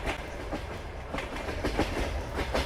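A passing train in the Farming Simulator 22 video game rumbles steadily with rhythmic clickety-clack wheel beats on the rails, close and moderately loud throughout.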